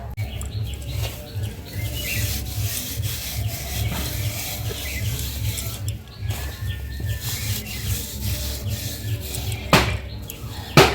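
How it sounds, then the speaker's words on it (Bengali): Sun-dried basil seed heads are rubbed between bare hands to loosen the seeds, giving a steady dry scratchy rustle that runs continuously, with birds chirping faintly in the background. "একটু ঘষে ঘষে বীজটা আলাদা করে নেব।"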